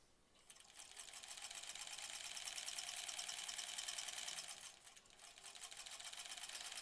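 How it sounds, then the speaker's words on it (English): A sewing machine runs steadily while chain piecing quilt blocks for a sampler quilt, a continuous close mechanical whirr with a brief dip partway through before resuming at the same even pace. "I love this chain piecing where you can just keep sewing."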